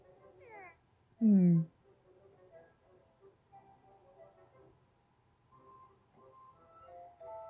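A house cat meows twice in quick succession, the second call louder and close, followed by quieter indoor room sounds and faint background noise.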